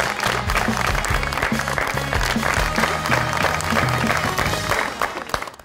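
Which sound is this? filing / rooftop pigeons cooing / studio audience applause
studio audience applause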